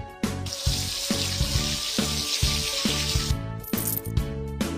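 A continuous hiss of running water washing a cat in a pet salon game pours for several seconds over cheerful looping game music, then stops abruptly near the end.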